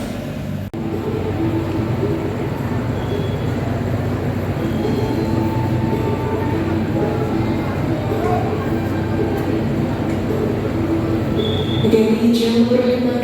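A train rumbles steadily and continuously at a railway station, heard close, with a public-address announcement over it and a faint squeal near the end.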